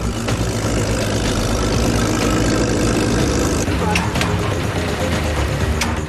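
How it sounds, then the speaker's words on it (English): A tractor engine drones hard and steady under full power in a race on water, loud and continuous throughout. Crowd noise and commentary sit over the engine. "The Mortarhead's tractor is just powering."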